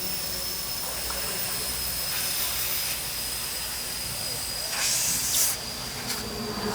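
Compressed air hisses steadily out of a Michelin race tire during mounting at an IMSA race weekend, a continuous close sibilant rush with brief louder bursts, set against a busy workshop background.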